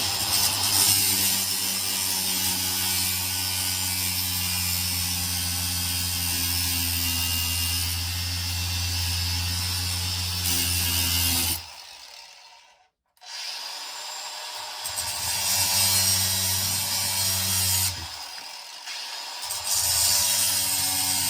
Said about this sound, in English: I'm going to take an angle grinder and just cut the excess of the pins off